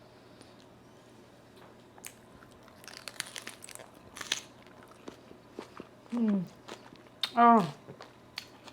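A blackened shrimp lettuce wrap is bitten into close up, giving a few crisp crunches and soft chewing, followed by short appreciative vocal murmurs.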